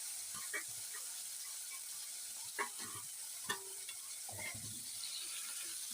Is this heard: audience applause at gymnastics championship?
no